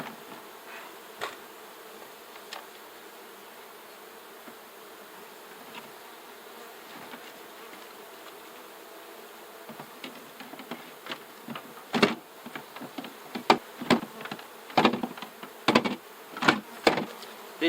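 Bees buzz around an open beehive during a hive inspection, a steady low hum with sharp, loud buzzing bursts from individual bees flying close by, growing busier toward the end.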